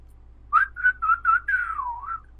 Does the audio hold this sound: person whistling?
yes